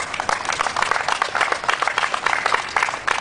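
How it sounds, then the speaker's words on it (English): Applause from a crowd at a political rally in Lansing, a steady patter of many hands clapping throughout, fairly close with no speech over it. "Round of applause for the representatives."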